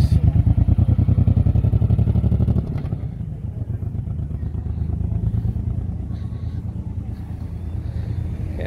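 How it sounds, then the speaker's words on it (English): A big motorbike passes along a seaside street in Playa de las Américas, Tenerife, its loud, throbbing engine close for the first few seconds before easing off into a lower, steadier drone amid street ambience. "Look at this big motorbike coming along."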